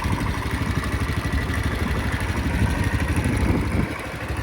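An old rusty Cub Cadet lawn tractor engine runs steadily nearby with a rough, chugging clatter, dropping slightly in level near the end.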